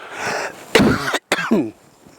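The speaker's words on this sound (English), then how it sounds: "I was trying to illustrate covering your mouth when you cough." A few sharp coughs up close, two short bursts separated by a brief silence, with faint room noise between them.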